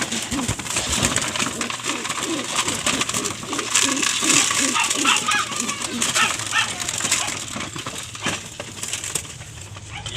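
Breeder pigeons being fed coo in soft repeated pulses throughout, mixed with fluttering and scattered clicks, while someone talks over them at close range.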